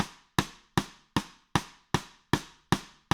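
Compressed side stick snare sample from the stock Trigger 2 library, struck eight times at an even pace, each crisp wooden click decaying quickly into silence, alone and up close.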